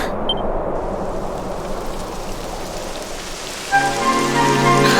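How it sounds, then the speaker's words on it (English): Rain pours steadily in the video game Dragon Quest XI, a dense hiss of falling drops that continues throughout, joined near the end by bright sustained musical tones from the game. "It would have to go and start raining, wouldn't it?"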